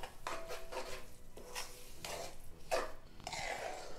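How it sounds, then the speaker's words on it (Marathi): Rava and coconut laddu mixture being stirred in a pan: a series of scraping, rubbing strokes of a spoon against metal, coming in uneven bursts about every half second, close and fairly quiet. "हे ढवळून घ्यायचं आहे"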